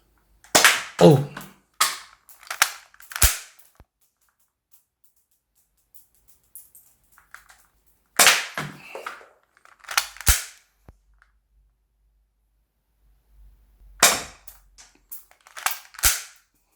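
An Academy Luger P08 toy spring pistol is fired repeatedly, giving sharp, snappy pops with short clatters after them. They come in separate clusters of a few shots, with quiet gaps between the groups.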